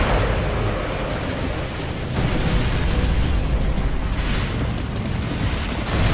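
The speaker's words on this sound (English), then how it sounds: "Mortars!" Heavy mortar shells detonate in Gears of War: Judgment, a dense, continuous roar of loud booming blasts with no break, one big burst surging again about two seconds in.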